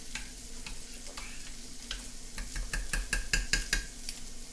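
A spoon stirs sweet Hawaiian meatball sauce in a pot, with faint simmering underneath and a run of quick metallic scrapes and clinks that bunch up toward the end, close and fairly quiet.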